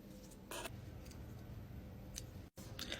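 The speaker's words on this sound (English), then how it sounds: "Then I take these like little scissors and I'm gonna just trim them." Small scissors trim eyebrows up close, giving a few quiet, sharp snips and clicks scattered over a few seconds against a faint background hush.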